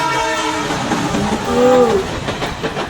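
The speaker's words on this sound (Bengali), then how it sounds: "বাংলাদেশের ট্রেন আছে, অনেক সুন্দর লাগছে।" A Bangladeshi train rolling past close by, its wheels and cars rumbling steadily while a horn sounds in a sustained blast that swells briefly in the middle.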